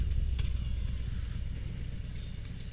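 Low, steady exhaust rumble from a 2023 Harley-Davidson Road King Special with the 114 engine, a deep continuous throb heard close by while riding, with no voices.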